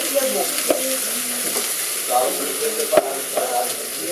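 Garlic sizzles in hot oil for paella, a steady frying hiss with stirring clatter and occasional sharp utensil knocks throughout.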